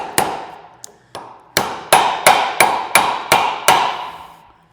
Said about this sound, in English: And pound it through.